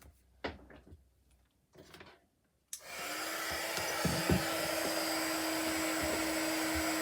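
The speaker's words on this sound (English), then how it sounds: "Now I'm just going to switch on my heat gun" A heat gun for card embossing switches on after a few faint clicks and knocks, then blows a steady, loud, close whooshing roar that continues without a break.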